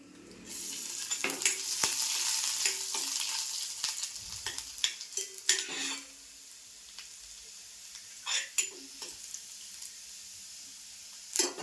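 Chopped garlic drops into hot oil for tempering, giving a bright, steady sizzle for several seconds that then thins out into scattered spoon clicks and short crackles against the pan.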